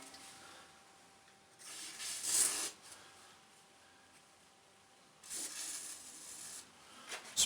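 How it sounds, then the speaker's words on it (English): A WD-40 aerosol can sprays into a WEN 4050 generator that won't start, giving two close, short hissing bursts separated by a quiet pause. "Spray some down in there."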